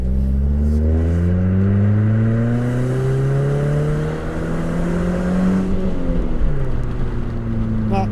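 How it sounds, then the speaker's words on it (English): A 1999 Toyota Altezza RS200 Z Edition with a 2.0L engine, 6-speed gearbox and aftermarket exhaust accelerates. A steady engine drone rises in pitch through the gears and is heard from inside the car with no talk. "The exhaust is a little bit tinny sounding for my liking. It's aftermarket, as I said."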